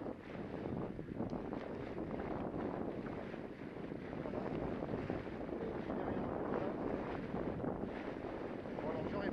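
Steady, dense roar of a sailboat's motor mixed with gusty headwind buffeting the microphone, continuous throughout, on a crossing to Menorca in the Balearic Islands.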